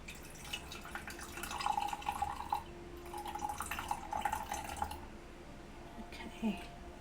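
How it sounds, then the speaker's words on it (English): Milk poured into a Nespresso milk frother, a soft liquid trickle and splash that comes in two close bursts with brief pauses between them, heard quietly and nearby. "we're just gonna pour some in there right now."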